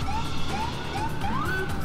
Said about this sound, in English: at the moment I'm quite fast, so I'm going to use my siren a bit.